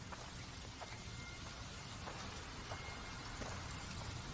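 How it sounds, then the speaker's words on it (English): Rain falling in the A Plague Tale: Requiem trailer, a faint, even hiss of steady rainfall with scattered soft drop ticks throughout and no voices. "It's raining?"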